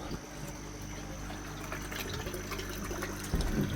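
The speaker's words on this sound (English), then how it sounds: "So I've got an air pump going into the filter box. It's a 45 litre an hour air pump," A 45 litre per hour air pump bubbles water inside a filter box, giving a steady close watery burble and gurgle throughout, with a sharper splashy surge near the end.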